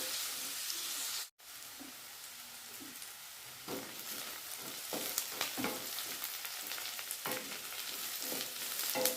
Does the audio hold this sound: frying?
yes